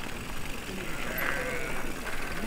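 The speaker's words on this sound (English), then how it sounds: "Finally see some sheep up close." A sheep bleats once, a wavering call rising out of steady outdoor background noise, moderately close.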